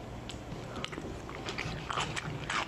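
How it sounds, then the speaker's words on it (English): Someone chews crunchy food with the mouth open, wet smacking bites and crunches repeating irregularly up close, fairly quiet against a steady background hiss. "how long can you guys stand watching people chew with their mouth open"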